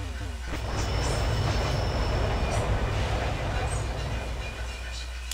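Train ride in the Pokemon Rejuvenation video game, a steady loud rumbling of rolling rail cars with faint clatter, continuous throughout.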